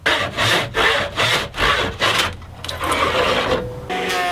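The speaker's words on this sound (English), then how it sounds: "the board is too wide to make the complete cut on my table saw, so the only way I can figure to do it is by hand" A handsaw cuts through a wide quilted maple board, loud and close. Steady push-pull rasping strokes repeat about twice a second, then turn into a denser, continuous grinding toward the end.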